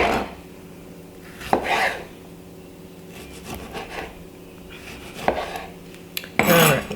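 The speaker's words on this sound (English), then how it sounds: "I'm just going to cut them into pieces like so." A knife cuts tomatoes into pieces on a board, giving a few separate knocks and scraping cuts at irregular intervals against a quiet kitchen background.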